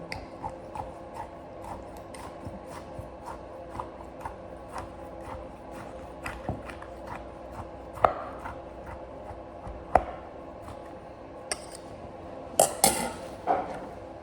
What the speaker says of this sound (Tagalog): Para konting durog-durog muna dito sa ilalim